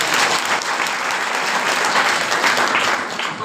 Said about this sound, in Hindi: ताली बजाए परमेश्वर।